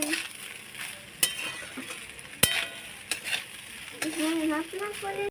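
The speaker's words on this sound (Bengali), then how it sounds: "নুনটাকে ভালো করে ভাতের সাথে মিশিয়ে নেবো" Fried rice with salt and spices is stirred in a pan, sizzling softly under a spoon that clinks sharply against the metal a few times. A voice talks briefly near the end.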